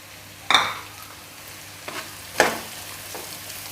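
Chopped onions frying with chicken in a pan, a steady sizzle broken by two loud scraping stirs and a softer one in between, no talk.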